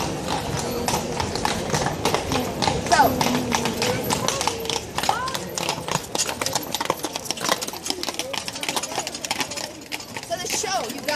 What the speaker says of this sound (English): Oh, we've got a horse-drawn carriage.